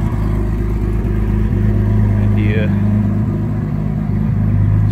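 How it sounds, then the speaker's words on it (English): A 1200 hp Porsche 911 Turbo idles steadily nearby with a deep, constant low rumble, while someone talks over it. "Do a walk around here, the car's idling."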